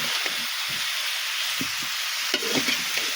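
Cauliflower with turmeric, salt, chili powder and green chilies stirred and fried in a pan, a steady close sizzle with scraping stirs every second or so, no voices.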